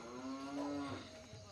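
A buffalo in a cattle shed lets out a single long, low moo that holds steady for about a second and then fades, fairly close and alone with no voices around it.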